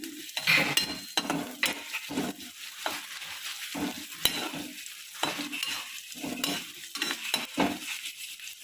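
Maggi noodles sizzle and fry in a pan while a utensil stirs and scrapes against the metal in repeated strokes, close and fairly loud, with no voices.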